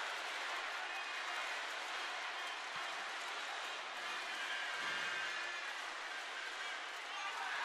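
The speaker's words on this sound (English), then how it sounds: "Listen to that crowd go wild." Faint, steady roar of a large arena crowd at a world taekwondo championship, broad continuous cheering heard from a distance with no distinct claps or voices standing out.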